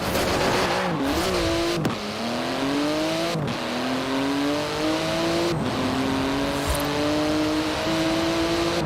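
A Porsche GT2 RS with magnesium wheels and titanium exhaust, driven in the video game Forza Horizon 4, revs loudly and continuously, its engine note climbing repeatedly through gear changes with no talking over it.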